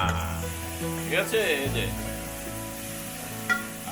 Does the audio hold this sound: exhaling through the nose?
no